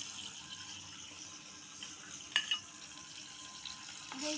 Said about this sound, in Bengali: এই দেখো ঢেলে দিচ্ছি